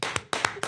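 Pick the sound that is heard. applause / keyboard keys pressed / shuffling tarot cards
applause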